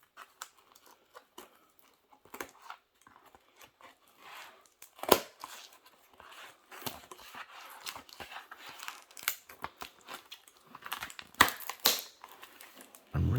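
Scissors cutting open a Flesh and Blood Arcane Rising card pack produce irregular quiet snips, crinkles and crackles of foil wrapping, close and intermittent, with a few sharper clicks.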